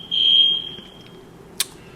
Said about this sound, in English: excuse that noise, the alarms just went off